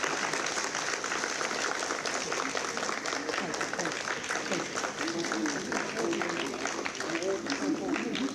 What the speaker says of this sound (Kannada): ಸ್ವಲ್ಪ ಚಪ್ಪಾಳೆ ಜೋರಾಗಿ ಹೊಡಿಬೇಕು